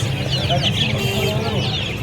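Kadaknath and Silkie chickens at a crowded poultry market, clucking and squawking close by in quick overlapping calls over a background of talking people.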